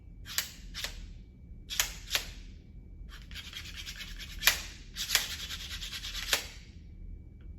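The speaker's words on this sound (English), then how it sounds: "The way the clamp works is that you slide it up and down this metal bar." A clamp slides up and down a metal bar, making a series of sharp metallic clicks and raspy scraping strokes at irregular intervals, close and fairly quiet, with no talking.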